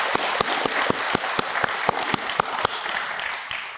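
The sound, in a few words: applause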